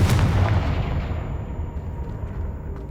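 Confringo explosive spell cast in Hogwarts Legacy on PS5, a heavy close blast with a deep rumbling low end that decays slowly into a lingering roar over three seconds.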